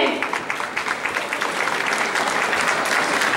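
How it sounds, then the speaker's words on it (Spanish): Applause for a school civil defense brigade at a student brigade swearing-in ceremony: a dense, steady round of clapping from a crowd, fairly loud and continuous throughout. "Pues que los aplausos para la Brigada de Defensa Civil."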